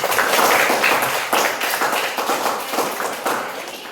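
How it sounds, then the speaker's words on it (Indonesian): A group claps hands together in a dense, steady burst of applause that gradually thins and loosens toward the end. "Kita tepuk tangan dulu untuk kita punya diri sendiri"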